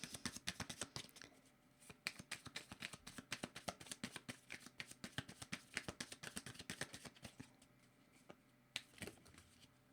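Tarot cards shuffled by hand at close range, a quick stream of crisp riffling flicks and soft slaps in an irregular rhythm, fairly quiet and heard alone.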